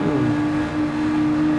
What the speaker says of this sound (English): I'm dragging this GTR down the track